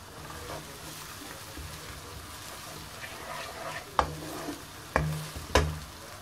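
Minced meat for spaghetti frying in a pan, a soft steady sizzle with a few sharp scrapes of a spoon stirring it near the end, no talking.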